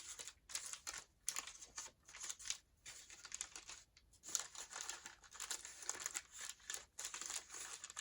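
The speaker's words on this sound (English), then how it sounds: "So I'm just going to fold those papers over again." Soft papery crinkling and scraping as paper is folded and pressed flat with a pointed bone folder during a craft project turning a lunch bag into a gift bag, quiet and close with steady rubbing strokes.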